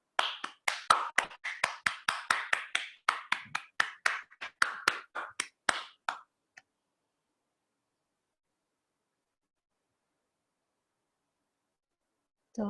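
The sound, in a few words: group clapping loudly after meditation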